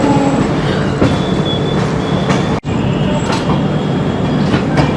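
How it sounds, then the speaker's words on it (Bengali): A passenger train rolling into Varanasi, loud steady rumble from inside the carriage with thin high wheel squeals along the rails and occasional clacks, one sharp brief dropout midway. "ট্রেন এখন বেনারসে ঢুকছে, আর সামান্য একটু রাস্তা বাকি আছে বেনারসে পৌঁছাবার।"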